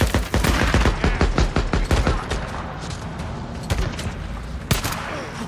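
Rapid bursts of enemy submachine-gun fire in the video game Days Gone, dense and loud at first, then thinning to scattered, sharper shots with booming echoes; no talking.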